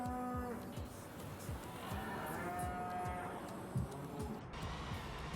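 Cattle moo repeatedly in Farming Simulator 19, low drawn-out calls overlapping in a steady chorus against a soft farm ambience.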